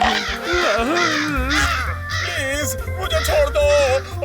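Crow cawing amid a Hindi cartoon scene, with repeated harsh caws rising over continuous dialogue and background music.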